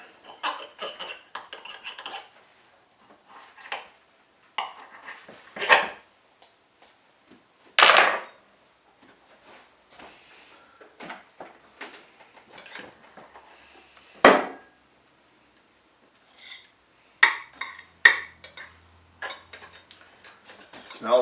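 A slice of brisket pie is cut and served with cutlery, giving sparse, close clinks and scrapes of metal on a plate between quiet pauses.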